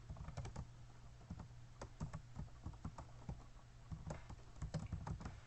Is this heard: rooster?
no